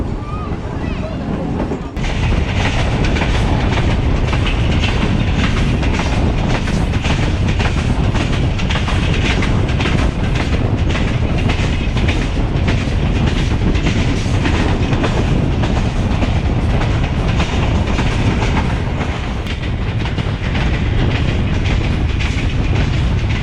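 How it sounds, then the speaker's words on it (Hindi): A passenger express train runs along a rural branch line, its loud continuous rumble and rhythmic wheel clatter filling the whole stretch without a break. Wind buffets the microphone throughout. "ट्रेन"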